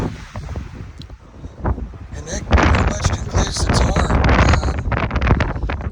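Strong wind buffets the open deck of a Disney Destiny cruise ship at night, a loud blustery rumble that surges and roars, heavier in the second half, while someone speaks over it.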